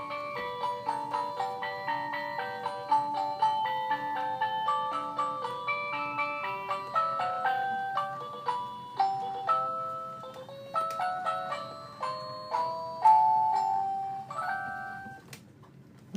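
A Seiko wall clock plays a tinkling music-box style melody of bright plucked chime notes in a steady rhythm, close and clear with no talking.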